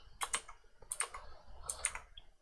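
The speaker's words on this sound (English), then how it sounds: "I'm typing blind at the moment." Blind typing on a computer keyboard in short bursts of quick, close keystrokes separated by brief pauses, fairly quiet with no talking.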